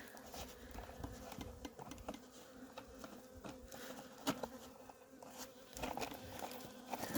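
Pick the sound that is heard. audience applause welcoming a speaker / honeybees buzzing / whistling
honeybees buzzing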